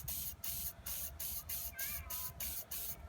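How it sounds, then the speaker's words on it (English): An aerosol can sprays lubricant onto stroller wheel bearings in a quick series of short hissing bursts, about eight evenly spaced puffs, close up and fairly quiet. "if you spray a bit around the cap and also on the other wheel"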